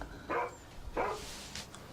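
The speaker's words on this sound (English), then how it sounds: "I'll have the neighbours complaining about the barking" A dog barks twice in quick succession, fairly close, followed by a fainter yip, against a low background hum.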